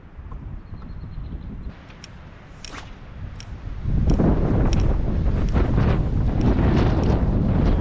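Strong wind gusting over Opossum Lake, buffeting the microphone with a low roar that grows louder and steadier after a calmer start, and no voices.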